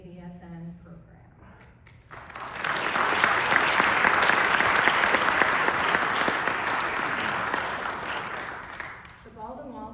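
A crowd at a Baldwin Wallace University nurse pinning ceremony breaks into sustained applause for the nursing graduates, swelling to a loud, dense roar of clapping for several seconds before fading, with a voice speaking briefly before and after.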